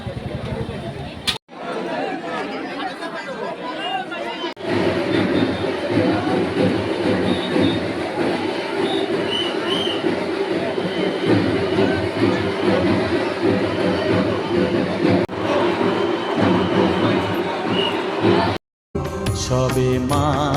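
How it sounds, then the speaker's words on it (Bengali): A train sits at Naihati railway station amid a loud, continuous rumble of the carriages and crowd chatter on the platform, with voices talking throughout. "এই মুহূর্তে কিন্তু আমরা চলে আসলাম নৈহাটি স্টেশনে।"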